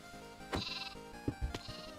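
Sheep on a video game farm bleat in two short, clear calls, fairly close and alone, with small thumps between them.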